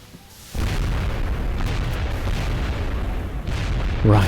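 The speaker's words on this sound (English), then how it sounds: "the explosion actually does some damage to the other Sectopod as well" An explosion in XCOM Enemy Within fights a Sectopod robot: a sudden loud boom, then a sustained heavy rumbling roar that keeps going to the end with no talk.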